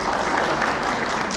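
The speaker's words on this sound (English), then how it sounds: "give my wife a round of applause" A live audience breaks into a round of applause, giving a brief, dense, continuous burst of clapping that fills the whole moment at a steady level, with no voices on top.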